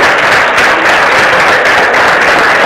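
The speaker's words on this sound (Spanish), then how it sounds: "un fuerte aplauso a todos ustedes" Loud, dense applause from a large crowd at a Partido Popular youth congress, continuous clapping close and steady throughout with no talk over it.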